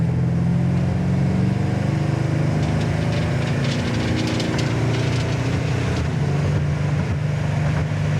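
A 1970 Dodge Super Bee pulling away after a gear change, its V8 rumbling steadily and climbing in pitch as it accelerates, heard from inside the car at moderate loudness.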